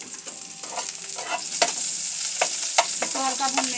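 Spices and chopped ingredients sizzling steadily in hot oil in a pan, a constant loud fry with a few light stirring clinks on top, no voices.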